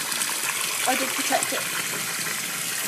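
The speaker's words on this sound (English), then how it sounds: "the tutorials that I've seen have just run water straight into the jug, so I'm going to try that because it's easier" Tap water pours steadily into a jug for dyeing a fleece with food colouring, a continuous broad gush at moderate level with a brief spoken phrase over it.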